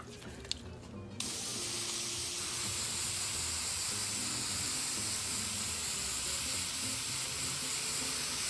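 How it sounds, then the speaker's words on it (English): Following a brief rattle, a steady loud hiss of aircraft paint remover being sprayed onto a 1953 Willys Jeep CJ3B tub runs continuously and evenly, close by, with no pauses. "So I'm just going to start spraying on this"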